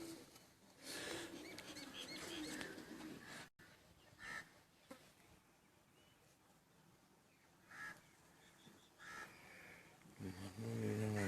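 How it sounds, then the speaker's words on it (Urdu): Soft coos and calls of black-faced pigeons over a muffled background, with brief wing flaps and some rustling handling noise as a bird is held; fairly quiet throughout. "یہ کالے منہ والوں کے کراس میں یہ کبوتر یہ جو آپ دیکھ رہے ہیں"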